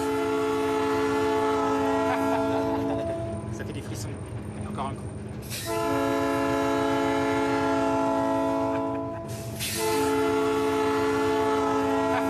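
A train on rails in Peru sounds long, loud, harmonic horn blasts separated by short pauses, over a low rumbling of the moving cars, with voices audible at times.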